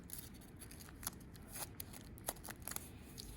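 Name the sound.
cutting out a wing shape from folded material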